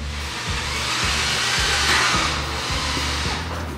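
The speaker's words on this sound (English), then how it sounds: "We're going to use our 3/4 inch tech screws and a number 2 square drive bit." Cordless drill driving 3/4 inch tek screws with a number 2 square drive bit while mounting stair railing clips, a steady close whirring drone with repeated low knocks as each screw seats, no talking.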